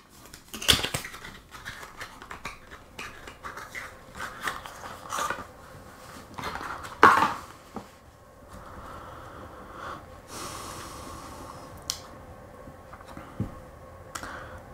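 Opening a board game expansion box for Xia, with close rustling, scraping of cardboard and plastic, and a few sharper tears and thumps, with no speech.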